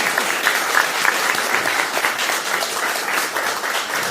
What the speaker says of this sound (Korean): 큰 박수를 보내주십시오